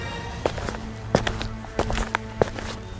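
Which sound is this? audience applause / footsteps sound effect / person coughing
footsteps sound effect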